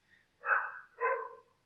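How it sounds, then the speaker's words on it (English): Two short, sharp dog barks close together, loud and near, with a brief pause between them and quiet before and after. "Sorry for the barking"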